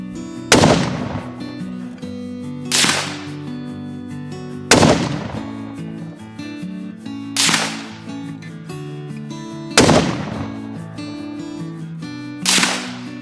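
Six sharp, loud .308 rifle shots from a Sako 90 Finnlight during outdoor accuracy testing, fired at an unhurried pace of roughly one every two seconds, each crack followed by a brief echoing tail over a steady background hum.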